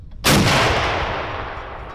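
An artillery cannon fires a round during a live fire exercise in Estonia, a single loud, close blast that hits suddenly and rolls off into a long fading rumble.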